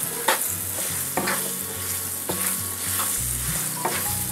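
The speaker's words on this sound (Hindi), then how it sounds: "आलूओं को मैं अच्छी तरह से भून लूँगी। गैस की फ्लेम लो ही रखेंगे ताकि हमारे आलू बिल्कुल धीमी धीमी आंच में" Potatoes fry on a low flame with a steady, close sizzle, broken by regular scraping stirs of a utensil against the pan.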